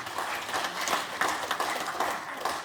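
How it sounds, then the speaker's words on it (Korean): An audience at an academic heritage lecture in Sangju, Korea, applauds a presenter with a steady, moderately loud wash of clapping that lasts a few seconds without pause. "큰 박수 부탁드립니다"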